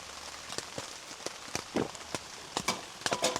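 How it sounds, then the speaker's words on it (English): Rain patters on a tent at a campsite, irregular drops tapping the fabric with sharper close hits over a soft continuous hiss, no voices. "I just wish the rain would stop."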